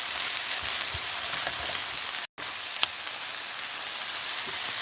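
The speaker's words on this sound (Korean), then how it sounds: "고기전을 좀 넣어서 고사리하고 도라지 나물 볶는 거예요" Bracken and bellflower root namul stir-fry in a pan with crumbled frozen meat patty and sesame oil, giving a steady loud sizzle and hiss throughout, briefly cut off once, with no talking.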